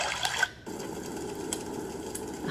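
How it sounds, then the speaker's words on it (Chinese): Continuous white noise of a small flowing stream, an even trickling wash with occasional faint clicks and splashes, steady and close with no voices. "我的小流河水的声音，"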